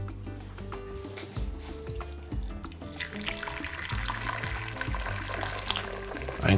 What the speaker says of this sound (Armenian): Վրան լցնում ենք ջուր,